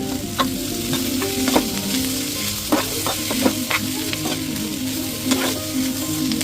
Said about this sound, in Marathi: मिश्रण सर्व एकजीव व्यवस्थित परतून घ्यायचंय